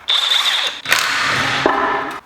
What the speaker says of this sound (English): Let's get these wheels off. Oh yeah, I finally also got an impact wrench.